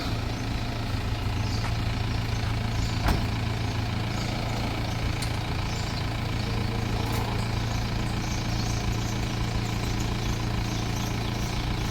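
Isuzu Rodeo 4x4 engine running at a steady idle, a continuous low, even rumble that holds close and unchanged throughout.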